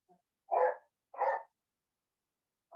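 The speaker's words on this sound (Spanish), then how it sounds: "Ya se puso a pelear mi perra con la perra del frente." A dog barks twice in quick succession, moderately close, followed by silence and the start of another bark; one of two dogs squaring off in a fight, with no talk.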